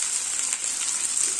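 Chicken fillet cutlets sizzle in a frying pan, a steady close hissing crackle with fine popping throughout.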